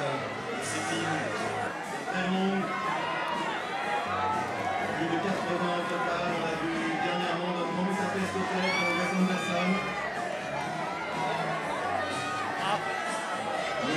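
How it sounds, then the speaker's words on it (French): A dense crowd shouts and cheers continuously at the foot of the steps at the Cannes Film Festival red carpet, with many voices chattering and calling out at steady loudness throughout. "Alors que ça crie beaucoup en bas des marches."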